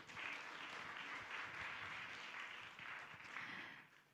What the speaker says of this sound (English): please give a warm applause for West Java government